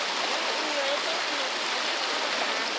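River water flowing in a steady, broad rush, continuous and fairly close with no pauses.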